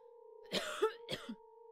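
Two short, muffled coughs from a character in the video game Silent Hill 2 sound over a steady electronic hum, with a brief pause between them.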